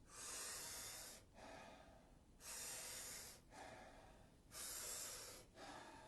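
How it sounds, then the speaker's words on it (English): Wim Hof style breathing during a yoga session: three deep, forceful inhales, each followed by a softer, shorter exhale, repeated in a steady rhythm, close and clear with no talking. "What we're going to be doing is taking about 40 breaths into the body through the mouth."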